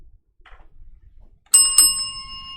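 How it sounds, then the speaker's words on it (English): A small handheld bell is dinged twice in quick succession in celebration of an Eagles card pulled during an NFL card break, each strike bright and ringing out with a long sustained tone after faint rustling. "let's ding a bell for the Eagles"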